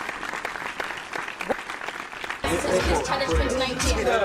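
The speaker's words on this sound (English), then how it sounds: "A big round of applause to Lupane State University and National University of Science and Technology" Audience applause for Lupane State University and National University of Science and Technology at a universities quiz challenge, with a spoken voice and scattered claps early on, then a sudden loud burst of sustained clapping.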